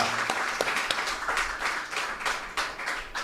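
A congregation claps during a Tamil sermon, a fairly quiet run of quick, rhythmic hand claps repeating at a steady pace.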